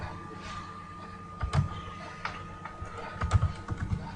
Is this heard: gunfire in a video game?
no